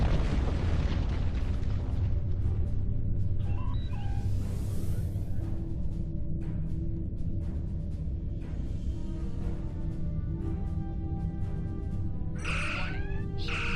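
Starship weapons fire and explosions erupt during a space battle against Klingon ships: repeated booming blasts and bursts with sharp sci-fi zaps, loud and dense, with no speech.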